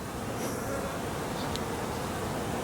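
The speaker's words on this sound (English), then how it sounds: "Still have one hive making it through the winter" Honey bees at a single overwintered hive in a New England garden in late March give off a continuous, dense buzzing drone. It holds steady and moderately close, with no voices.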